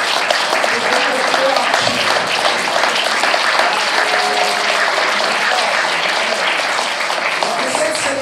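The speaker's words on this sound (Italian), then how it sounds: "ringrazio con un calorosissimo applauso" Warm audience applause at a conference, a sustained, loud wash of many hands clapping at an even level for several seconds, with faint voices mixed in beneath it.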